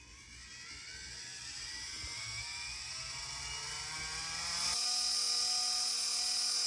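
Motor driving a rope winch on a DIY solar tracker with about 100 pounds of load and a slipping spool connection, a steady close whir that climbs in pitch and grows louder, no talking.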